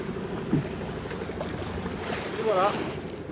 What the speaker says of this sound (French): vous entendez d'ailleurs le moteur